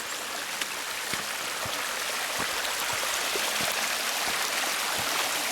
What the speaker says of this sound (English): See the momentum of this water?